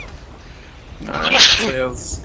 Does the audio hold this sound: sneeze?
yes